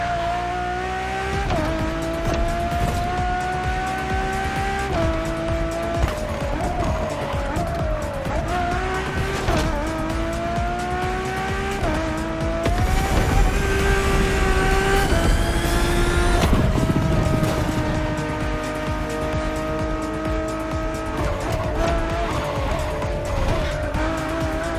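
Ferrari Enzo driving in the racing game The Crew Motorfest, its high engine whine rising and dropping through gear shifts, with tire squeal and skidding through corners, loud and continuous for about twenty-five seconds.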